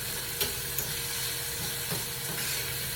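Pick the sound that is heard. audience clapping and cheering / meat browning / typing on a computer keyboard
meat browning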